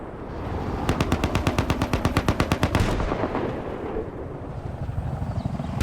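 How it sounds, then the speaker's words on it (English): Tanks dug in as buried emplacements in Battlefield 4 fire a rapid, evenly spaced burst of about twenty loud heavy rounds lasting roughly two seconds, then give way to a rumbling battlefield wash with scattered distant shots. "You got buried tanks down here firing up into the other position, giving support."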